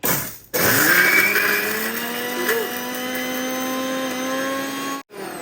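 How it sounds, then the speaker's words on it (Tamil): A new mixer grinder grinding food whirs loudly and steadily with a high whining hum, briefly cutting out near the start and again near the end. "இப்போ நாங்கள் என்ன செய்ய போகிறோம், மிக்ஸில் அரைக்கிறோம்."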